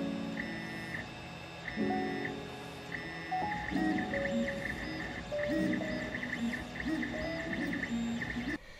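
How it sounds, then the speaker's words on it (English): A Creality Ender-5 Plus 3D printer runs mid-print without silent stepper drivers, its motors whining in steady, shifting pitched tones and stuttering beeps over a constant mechanical hum, close and fairly loud throughout. "the Ender-5 Plus does not have silent stepper drivers, so it is rather noisy when printing."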